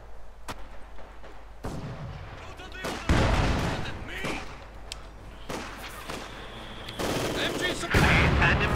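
Machine guns and other weapons fire in the Company of Heroes 2 battle game, heard as sharp cracks and sustained bursts of gunfire with heavier booms mixed in, while a commentator talks over the action.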